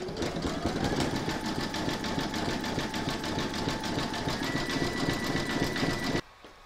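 An embroidery machine stitches a large sloth appliqué in the hoop, a fast, steady mechanical chatter and hum that continues evenly for about six seconds before cutting off.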